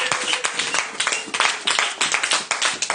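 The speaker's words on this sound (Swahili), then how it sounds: "Pigia Bwana makofi makubwa" A church congregation clapping hands in praise during a Bible study and prayer gathering, loud and continuous with rapid, fairly rhythmic slaps from many people and brief uneven dips.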